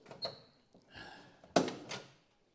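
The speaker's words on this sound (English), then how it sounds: "You can open the door on this" A latch clicks and a 1960 Chevrolet Brookwood's door swings open with a squeak, then a solid thunk and a brief rattle, close by and fairly quiet.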